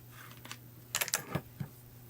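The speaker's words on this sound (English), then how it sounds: "Oops, my keyboard is hitting the escape button." Keys clack on a computer keyboard in a few quick, faint taps with a short cluster in the middle, heard alone against a low background hum.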